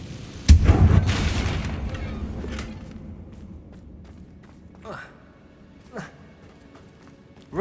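Spell blast from a Confringo casting in Hogwarts Legacy, a loud booming burst at the start that decays over a couple of seconds, followed by fainter whooshing spell effects.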